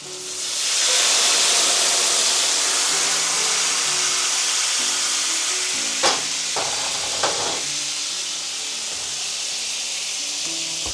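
Wine hits a hot steak pan taken off the stove and bursts into a loud, broad sizzle and hiss that holds steady, with a couple of brief clinks from swirling the pan and no talk.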